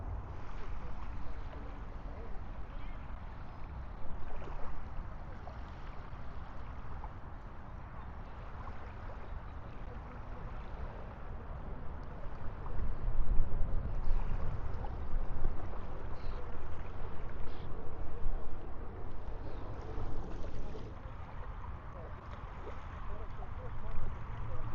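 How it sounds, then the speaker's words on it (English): Calm ocean waves rolling in at slack tide on a breezy day, a steady low wash of surf with wind noise, fairly even throughout and swelling slightly midway. "the waves coming in, very calm, breezy, slack tide"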